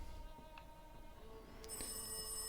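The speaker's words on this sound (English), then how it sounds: "The phone is ringing" Telephone ringing in the horror game Rise of Insanity, heard as a faint electronic ring that starts near the end over a quiet, humming background.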